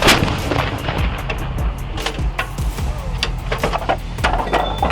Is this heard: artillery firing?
yes